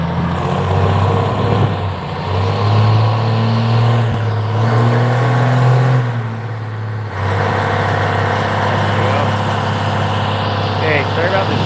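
An 1800 HP compound turbo Cummins diesel truck engine runs loud and close, holding a deep steady drone that swells and dips as it revs, with a brief drop around the middle before it picks back up.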